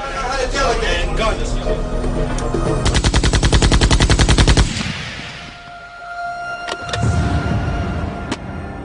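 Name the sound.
gunfire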